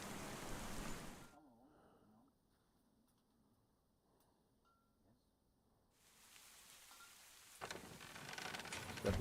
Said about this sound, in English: Well, I woke up to the rain.